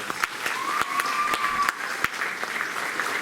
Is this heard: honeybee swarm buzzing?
no